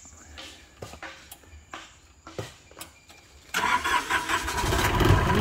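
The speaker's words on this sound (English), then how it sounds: "the operator will now start the engine" An IHI IS 30 GX mini excavator's engine cranks in several short bursts, then fires and settles into a loud, steady diesel rumble close by.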